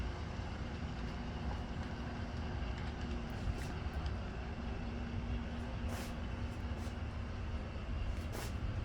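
A steady mechanical rumble and whir of a small model train running on a club railroad layout, emerging from a tunnel portal, continuous throughout, with a few faint high clicks near the end.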